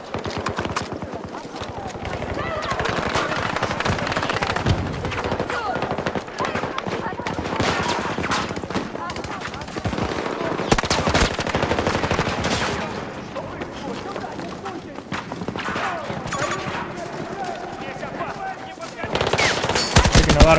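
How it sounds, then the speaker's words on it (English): Heavy gunfire in the video game Battlefield 2042 on PS5: sustained machine-gun bursts and shots rattle loudly and almost continuously, with a player talking over the battle. "Taking a lot of fire."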